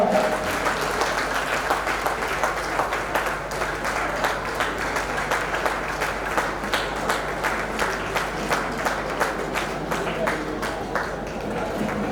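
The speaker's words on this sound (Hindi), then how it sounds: "संजय भाई का जोरदार तालियों के साथ में सम्मान हो।" Crowd at a welcome ceremony for a Girnar pilgrimage walk claps in a rhythmic, fairly synchronized beat, with distinct repeated claps over a steady hum, while a voice speaks over the applause.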